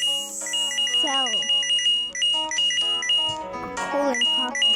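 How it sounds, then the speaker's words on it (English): Loud, repeated electronic beeping and chiming tones from a drilling video game, layered with sliding synthetic alert sounds, continuous and close throughout. "that beeping sound is so loud!"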